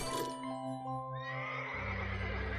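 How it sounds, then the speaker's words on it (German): A horse in the video game Runes of Magic whinnies with a bright, wavering neigh, followed by a burst of snorting and hoof noise, close and clear over a quiet backdrop. "So, und jetzt haben wir ein Pferd."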